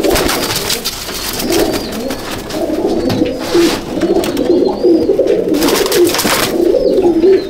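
Teddy pigeons coo steadily in low, throaty rolling phrases, several birds overlapping close by in a loft, with faint chirps and rustling in the background.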